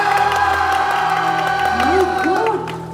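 A youth crowd on the right side of a live stage event shouts and cheers loudly, a sustained roar of voices with whoops rising near the end before easing off slightly.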